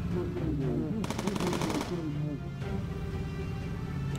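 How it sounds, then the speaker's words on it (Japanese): Enemy gunfire in the World War II bomber game Bomber Crew breaks out as a rapid, distant-sounding machine-gun burst lasting about a second, under someone talking and background game sound. "撃ってきてるわ"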